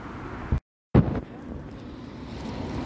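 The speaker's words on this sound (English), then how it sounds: "Well, we had quite a lot of wind and there is still wind." Steady wind rumbles and buffets against the microphone, broken by a brief dropout of silence before the gusting noise resumes.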